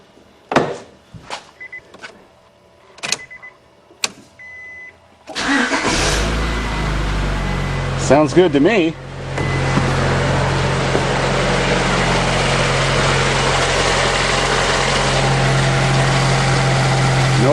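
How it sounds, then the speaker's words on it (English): A Honda Accord VTEC engine, freshly fitted with a new timing belt, cranks and fires after several clicks and clunks, then settles into a steady, loud idle; someone speaks briefly. "start the car up and see if it runs as good as it did before"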